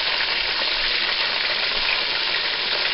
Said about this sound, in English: now we get our sauteed onions and bacon mixture back out. We're going to add our spinach.